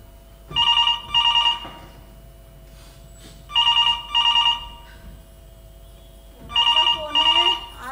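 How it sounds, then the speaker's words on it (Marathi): A telephone rings in a home scene of a Marathi stage play, three pairs of bright electronic trills spaced a few seconds apart, clear and fairly close, with faint background murmurs between rings. "फोन आहे."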